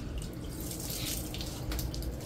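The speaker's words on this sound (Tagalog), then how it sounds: "Yan o, nalagyan na siya ng tubig." Floodwater pours and splashes steadily into a house during a flood, a continuous close rushing and trickling wash with no speech.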